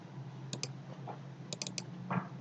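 Computer keyboard keys pressed while working in an Excel spreadsheet, a few quick clicks in two small clusters followed by a firmer Enter press, close and fairly quiet over low background hum.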